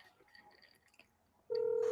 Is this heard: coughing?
no